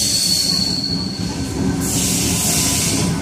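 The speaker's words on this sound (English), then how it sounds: "T83. Cronulla service arriving." A Sydney Trains T83 set on a Cronulla service pulling into Oatley station, loud and close, with rumbling wheels, a rising metallic brake squeal and a steady high whine from the carriages.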